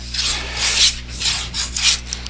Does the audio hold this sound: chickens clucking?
no